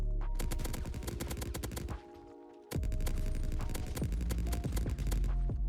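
Rapid bursts of gunfire in GTA 5 roleplay, dense and loud, pause briefly into a low hum, then resume with steady repeated shots.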